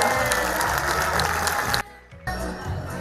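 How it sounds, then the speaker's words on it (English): Parents applauding at a school annual day, dense continuous clapping from a crowd that drops out abruptly for a moment and then resumes just as full. "So big applause, parents, please."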